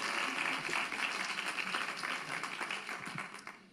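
Applause from a church congregation, a dense patter of many hands clapping steadily for a few seconds before thinning out toward the end.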